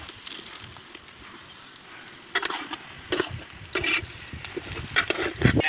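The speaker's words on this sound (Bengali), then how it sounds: "আমাদের এঁচোড় চিংড়ির পেঁয়াজ ভাজা হয়ে গেছে, এর মধ্যে ভাজা আলুগুলো এখন দিয়ে নাড়িয়ে নেব" Fried potatoes get stirred into frying onions, raw jackfruit and prawns in a village-style pan: soft sizzling with intermittent scraping strokes that grow louder and more frequent toward the end.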